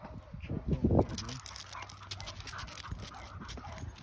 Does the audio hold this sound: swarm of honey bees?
no